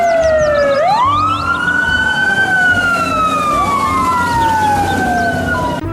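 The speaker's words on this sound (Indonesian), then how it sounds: "lihat ini teman-teman, ada truk pemadam kebakaran" A toy fire truck siren wails loudly and close, its pitch sweeping up and down in long rising and falling tones, with no voices over it.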